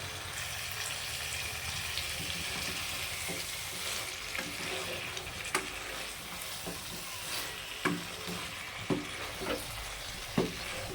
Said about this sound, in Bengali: সবজিগুলো মশলার সঙ্গে ভালো করে নাড়াচাড়া করে মিশিয়ে নিয়ে আর সবজিগুলোও কষে নিতে হবে মশলার সঙ্গে